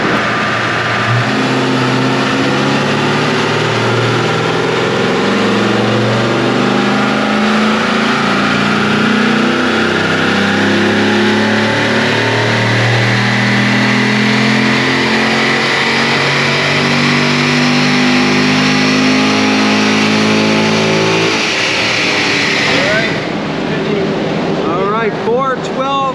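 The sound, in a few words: Corvette C7 engine revving during tuning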